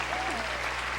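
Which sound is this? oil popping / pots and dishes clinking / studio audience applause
studio audience applause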